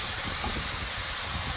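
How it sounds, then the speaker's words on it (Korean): Beef stir-frying in a pan for japchae gives a steady, close sizzling hiss that stays even throughout, with no voices. "소고기가 지금 많이 볶아지고 있어요"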